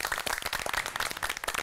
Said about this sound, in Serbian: Aplauz, molim vas.